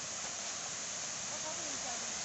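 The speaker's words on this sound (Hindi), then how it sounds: "यही सामने है ये वाटरफॉल" A small waterfall at Paanbari near Chandrapur gives off a steady, even rush of falling water, quite faint and continuous throughout the brief stretch, with a little murmur in the background.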